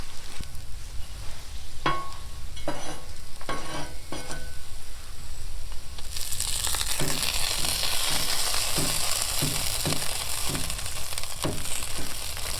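Tortillas frying in a pan until crispy for tacos, a steady loud sizzle joined by scraping and turning sounds at intervals, with the sizzle growing stronger partway through and no one talking.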